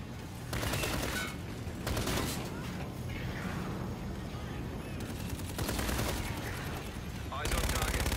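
Automatic weapon fire and heavy bursts in the Call of Duty: Infinite Warfare video game, loud, rapid fusillades in several waves with booming impacts, mixed with voices giving radio-style callouts.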